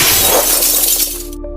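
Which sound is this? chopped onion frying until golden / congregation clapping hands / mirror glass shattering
mirror glass shattering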